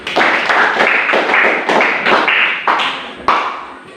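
A classroom of students applauds together in rhythmic bursts of clapping, a steady run of loud claps close by with no talk over it.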